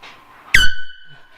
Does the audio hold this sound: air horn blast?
yes